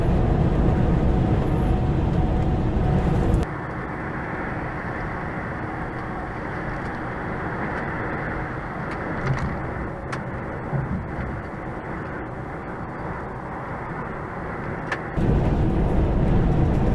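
A long-haul truck rolls along the road with a steady low cab rumble and road roar, loud at first, then muffled and even, rising again near the end.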